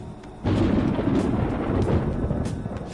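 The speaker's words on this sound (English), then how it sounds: "It sounds like it's going to rain." Thunder rumbles in a rainy scene from the video game Persona 5 Royal, opening with a sudden loud crack that rolls into a long, heavy, sustained rumble with faint crackles, no voices present.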